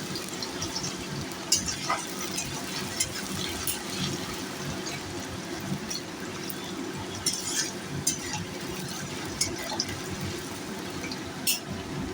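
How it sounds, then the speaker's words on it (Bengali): Potatoes fry lightly in oil in a pan for a fish oil curry, with a steady soft sizzle and scattered sharp pops and crackles. "দেখেন একটু আলুটা হালকা ভাজা হচ্ছে"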